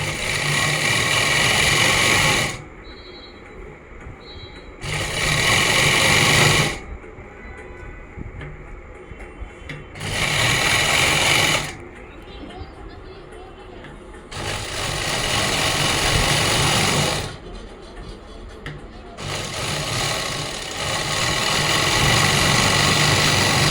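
A sewing machine stitches Afghani pants in bursts, several loud whirring runs of a few seconds each separated by quieter pauses, alone without talk.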